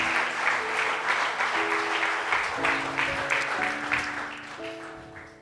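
A church congregation claps steadily throughout a Spanish-language worship service, the dense applause sitting over sustained keyboard or organ chords that shift pitch every second or so.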